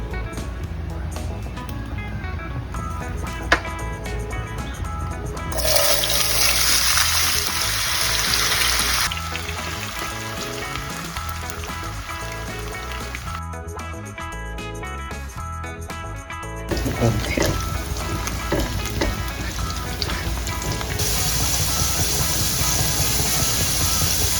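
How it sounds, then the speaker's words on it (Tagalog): Potatoes and other vegetables fry for pork menudo in a home kitchen, with loud bursts of sizzling that swell in and fade out over a steady layer of background sound. "Inuuna ko po munang prituhin ang mga gulay. Unahin po natin ang ating patatas."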